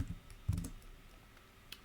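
Quiet, close computer keyboard typing, with a few soft clustered key clicks early and a single tap near the end.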